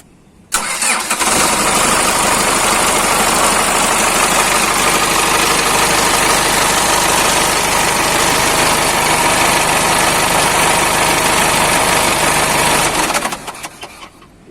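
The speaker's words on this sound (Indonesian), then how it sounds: "Biasanya kita akan mengecek idling system, yaitu RPM pada saat mesin dinyalakan." A Toyota FD-25 forklift engine starts up and settles into a steady, loud idle that holds evenly for about twelve seconds before shutting off.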